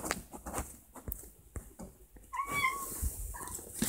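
A pet cat gives a short, fairly close meow near the end, sliding in pitch, after scattered soft household bumps and movement noises with no talking.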